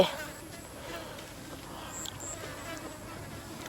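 A steady housefly buzz drones on at a low level, hovering nearby with faint background noise and no talking.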